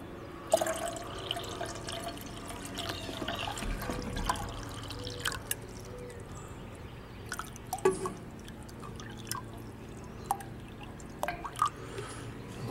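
Water pours softly into a Primus Litech 1.5 litre kettle, a steady faint trickle over the whole stretch with scattered small drips and splashes and no talking.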